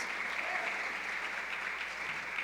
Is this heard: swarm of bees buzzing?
no